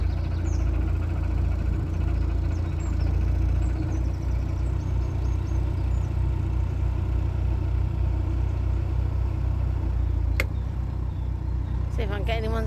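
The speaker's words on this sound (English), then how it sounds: "Its engine's running." A narrowboat's diesel engine runs steadily nearby, a continuous low throbbing rumble that holds even from start to finish, with faint water and outdoor background around it.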